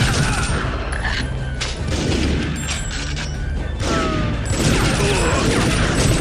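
Gunfire rattles in TimeSplitters: Future Perfect on GameCube. Dense, loud bursts of shots crash together with booms and clanking, and a voice talks over the shooting.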